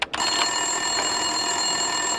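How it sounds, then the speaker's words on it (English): A desk telephone rings in the Max Payne 2 video game, a continuous bright electronic ring that starts after a short click and holds steady at close range. "Winterson's phone was ringing."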